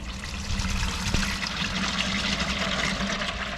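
Warm engine oil pours out of a tractor in a steady, close liquid stream with a light trickling, splashing texture, fairly soft and continuous throughout.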